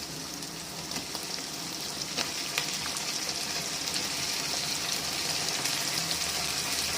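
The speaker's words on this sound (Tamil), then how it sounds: "இப்போ இதில் வந்து கத்திரிக்காய் போட்டுக்கிறோம்" Eggplant pieces sizzling in a pan with pepper and garlic cloves for a tomato-eggplant kadaisal, a steady broadband frying hiss with a few small crackles and pops, close and continuous with no voices.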